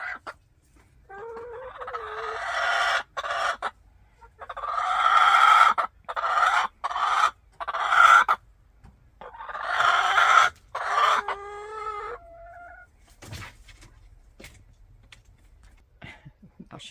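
Chickens cluck and squawk near a backyard coop in repeated loud bursts with short pauses, a hen fussing close by, with a faint voice at the end.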